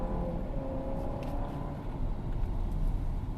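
A 2023 Jeep Compass speeds up along a ring road, its engine and tyre rumble rising as a steady broadband roar heard from inside the cabin, with no voices.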